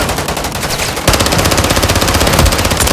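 Rapid machine-gun fire in the shooter Call of Duty: Modern Warfare III, a loud continuous rattle of evenly spaced shots that intensifies after a moment, alone with no talk.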